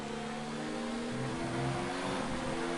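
An F3 car in a racing video game, its engine holding a high, strained rev with a steady tonal whine, loud and continuous and without speech.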